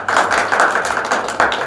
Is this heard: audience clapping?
yes